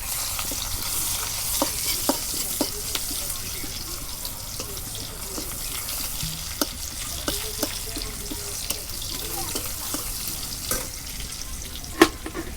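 Onions and cumin seeds fry in a pan ahead of a fish and eggplant curry, a continuous hiss broken by scattered spatula scrapes and metal clinks, with no talking.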